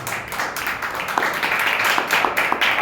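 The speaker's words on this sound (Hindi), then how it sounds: "ताली बजाते हैं प्रभु के नाम पे।" A church congregation claps their hands together in a steady, dense burst of applause that carries on throughout, fairly loud and close, with no words spoken over it.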